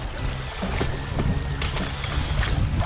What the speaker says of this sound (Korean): 물살이 조금 빠른 곳.